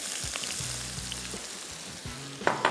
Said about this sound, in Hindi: प्याज शामिल किया, भुनते गए